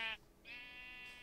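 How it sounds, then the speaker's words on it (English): Minecraft sheep bleating in a modded video game, two short wavering bleats with a gap between them, clear and alone with no talk. "Wow, the fact that I had to come all the way over here for some sheep."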